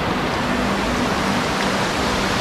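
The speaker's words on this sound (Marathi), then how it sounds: "हा इथे असा आपल्याला धबधबा पाहायला मिळतो." A roadside waterfall at Tamhini Ghat produces a dense, steady broadband rush of falling water, loud and unbroken throughout, with a faint low hum beneath.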